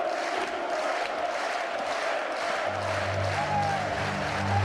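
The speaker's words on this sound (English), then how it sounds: "The Exterminator wins the day to the roars of the crowd." A crowd roars in a video game arena during an Assault King Championship, a sustained, fairly distant wash of cheering and shouting, joined partway through by a low droning tone.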